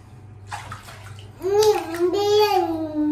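A child bathes in a bathtub with pink foam soap, water splashing softly beneath the child's babbling and an adult's voice, with a low steady hum in the background.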